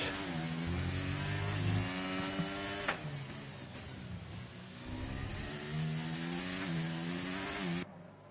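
An onboard racing car engine at full throttle screams at a steady high pitch, rising through each gear with a brief dip at a shift, loud and close throughout with no talking.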